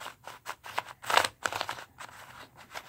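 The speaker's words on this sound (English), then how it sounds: "it's like sandy and dry and all that horrible stuff you don't want on a cube" A dry, gritty dollar-store puzzle cube being twisted close by, giving a run of short scratchy clicks and rasps of uneven loudness with one louder grinding turn midway.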